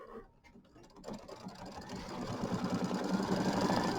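A sewing machine stitches placement lines for a small quilt, starting after a quiet moment and building into a continuous, steady mechanical whir with a rapid rhythmic pulse, close and fairly loud.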